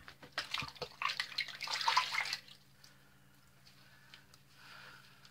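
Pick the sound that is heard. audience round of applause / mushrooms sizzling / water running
water running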